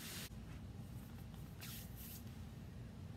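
Acrylic sealer sprayed from an aerosol can in short hissing bursts, a brief one early on and two longer ones near the middle, over a steady low background hum.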